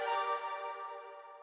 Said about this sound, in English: it's basically just a really simple arpeggio with these effects on there